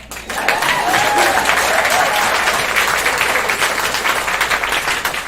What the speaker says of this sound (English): applause for our crew, by the way.